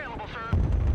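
Mortar fire in the video game Broken Arrow: a heavy, booming low rumble starts about halfway through and continues loud after a stretch of radio-style speech.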